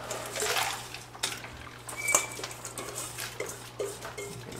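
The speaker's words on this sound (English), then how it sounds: "I'm gonna put the ice in the Anova first." About four cups of loose ice tumble into the water bath of an Anova sous vide cooker, a steady clattering, splashing rattle up close with a few sharper knocks.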